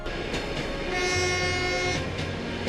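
A train in Mongolia rumbles along the tracks with a steady low roar, and a long horn tone sounds through the middle of the passage.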